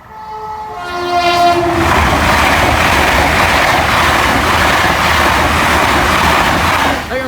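A train horn sounds briefly, then the Flying Scotsman rumbles loud and close past a level crossing, its roar and rattling filling the rest of the clip.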